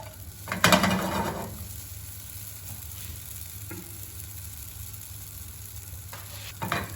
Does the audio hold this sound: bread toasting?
yes